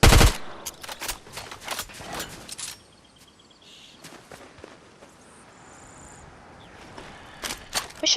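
Video game gunfire comes as quick bursts of sharp shots, dense at the start and again near the end with a quieter lull between, mixed with faint footsteps and small game effects.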